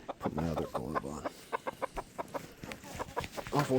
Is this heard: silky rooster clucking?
yes